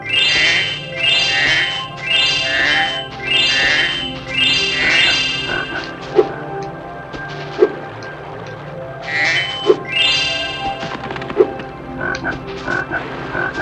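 Video game frogs croaking in Spyro 2: Ripto's Rage, Summer Forest, a run of repeated loud croaks over background game music, followed by a few sharp, isolated pops.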